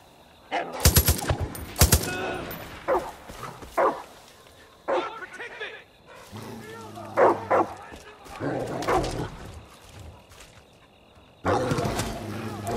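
Dog barking and snarling while attacking in the video game Far Cry 5, with sharp bursts of gunfire mixed in and someone talking throughout.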